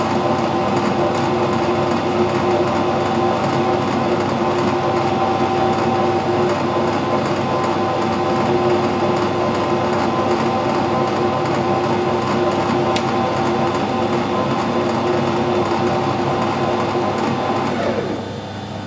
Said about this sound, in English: I'll put the knurler in action and show you how it works.